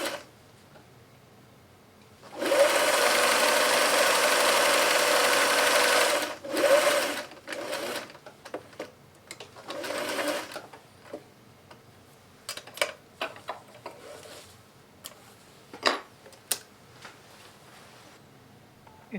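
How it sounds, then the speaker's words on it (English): A sewing machine runs a long steady burst along a fabric seam, then short stop-start stitching with scattered ticks and clicks, close and fairly loud, with no talking. "starting out a couple stitches forward, a couple stitches back, basically as close as I feel safe getting to the edge of the fabric, and then stitching to the end of the seam"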